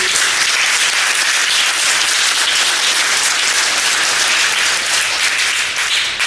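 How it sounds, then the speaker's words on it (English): Loud, sustained applause from an audience at an American GI Forum ceremony in Wisconsin, a dense continuous wash of many hands clapping with no break for the full length. "Can we give them another round of applause, please?"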